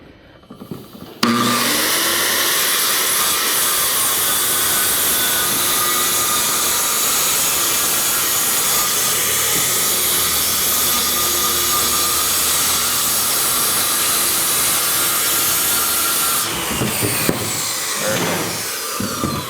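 A circular saw cuts wall sheathing along a stud in wall framing, running with a loud, sustained roaring whine close by for a long stretch, starting abruptly and ending with the blade spinning down and a few clunks.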